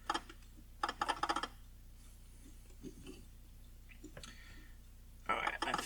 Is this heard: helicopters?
no